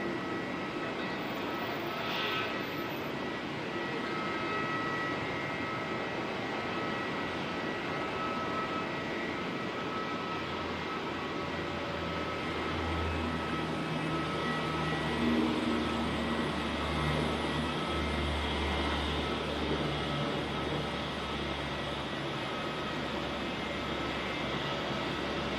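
Aircraft at Auckland Airport, among A321 domestic jets parked near the gate, give a continuous broad engine roar and whine that stays steady and fairly loud throughout, with a low rumble building partway through.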